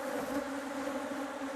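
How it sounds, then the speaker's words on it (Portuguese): Honey bees on a hive frame during a colony split, raising a dense, steady drone that continues without a break throughout. "primeiro eu vou balançar as abelhas"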